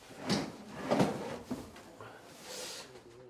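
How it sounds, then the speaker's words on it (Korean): A stiff apartment drawer in a defective new-build flat is forced open and shut, giving several heavy scraping bangs in an uneven rhythm, fairly close and moderately loud. "다시 서랍을 열었다가 닫아봤습니다."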